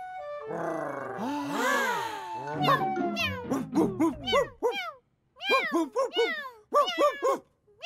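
A cartoon cat meows in a French-language song teaching English words for animals, several short rising-falling cries in quick succession, close and clear, following an earlier stretch of voices and music.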